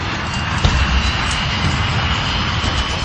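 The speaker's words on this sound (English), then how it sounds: "The 737 finally begins to roll down the runway." Boeing 737 jet engines during the takeoff roll of Air Florida Flight 90, a steady loud broadband roar with no change in level, heard close.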